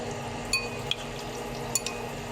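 Tofu sizzles steadily in a pan while being stirred, with a few soft clinks of a utensil against the pan over the low, even frying hiss.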